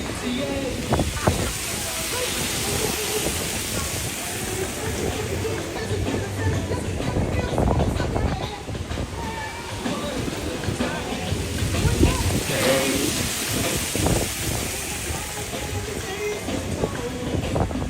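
Wind rushes past riders on a theme park ride at Universal Studios Hollywood, a continuous breathy roar with mechanical rumble, while people talk over it.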